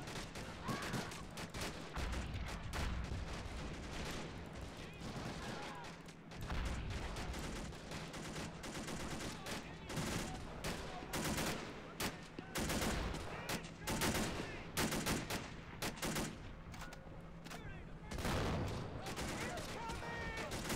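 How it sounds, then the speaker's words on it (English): Sustained gunfire and explosions rage in RobZ Realism Mod, a World War II beach assault on the shingle, with dense fusillades, bursts of machine-gun fire and heavy booms stacking up, while voices shout over the combat. "We're taking a lot of fire over here."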